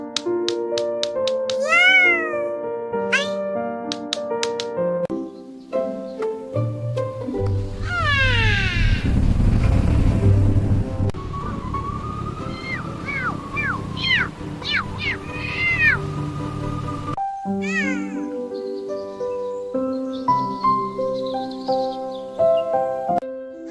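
A cat meows repeatedly in varied, rising and falling cries against background music and other bright sounds, fairly loud and close.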